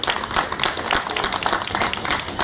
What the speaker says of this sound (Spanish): Fuerte el aplauso con los tres mosqueteros.